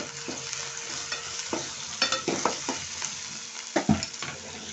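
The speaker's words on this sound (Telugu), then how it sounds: "నేను అల్లం వెల్లుల్లి పేస్ట్ వేస్తున్నాను. వేసేసి బాగా ఫ్రై చేసుకోండి ఆయిల్లోనే." Ginger garlic paste frying in hot oil in a pan, a soft steady sizzle broken by scraping stirs and a few louder clinks from a spoon, heard up close with no talking.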